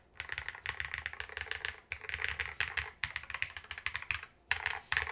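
Fingers type on a mechanical keyboard in fast clicky bursts separated by short pauses, close and fairly quiet, with no talking.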